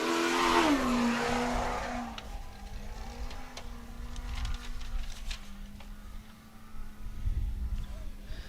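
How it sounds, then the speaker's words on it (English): A Ford Bronco off-road race truck roars past at a desert off-road race in Broadview, Montana, its engine note falling and then settling into a steady drone as it moves away, with a commentator talking over it. "that Ford Bronco with Ford Racing, Fox, BFG, and 74 Weld"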